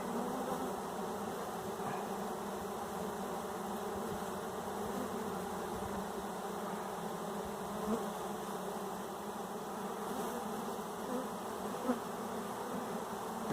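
A large swarm of honeybees that has just been caught drones in a steady, dense buzz that holds for the whole stretch, close and even, with no voices.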